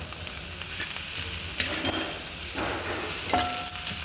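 Potatoes stirred into a sizzling mixture in a frying pan, a continuous low fry with spoon scrapes and shuffling, close and quiet, nobody speaking.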